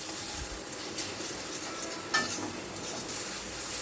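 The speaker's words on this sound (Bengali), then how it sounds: "এবারে সব কিছু ভালো করে মিশিয়ে নিচ্ছি। মশলাটাকে একটু কষিয়ে নেব।" Turmeric, coriander and cumin powder masala sautéing in a pan, with a steady soft sizzle and occasional scraping stirs throughout, close and moderately loud with no talk.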